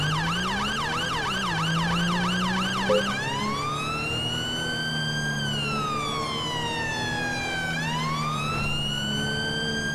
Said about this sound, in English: Off with the sirens so we don't alert him.